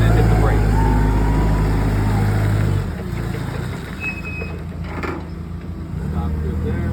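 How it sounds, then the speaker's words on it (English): A forklift drives forward, makes a half turn and brakes, its engine humming loudly at first, then dropping to a lower idle rumble with a brief mechanical squeak as it slows. "So I'm going to drive forward a little bit and do a half turn and then hit the brakes."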